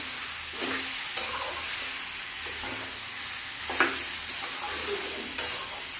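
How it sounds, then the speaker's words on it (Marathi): Potato and tomato filling for masala dosa is sautéed in a pan, with a steady sizzle and about four distinct spoon scrapes spaced out over several seconds, close, without speech. "आपण त्यामध्ये बटाटा टाकणार आहोत आणि भाजी चांगली परतून घेणार आहोत"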